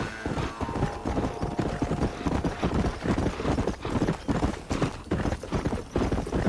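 Horse hooves clip-clopping at a steady trotting rhythm in the video game Red Dead Redemption, loud and continuous with dense overlapping game sound.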